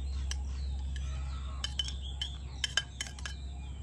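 A spoon stirs dry fruits into an Oreo truffle mixture in a bowl, giving scattered sharp clinks and taps against the dish over a low steady background hum, with clusters of knocks in the second half.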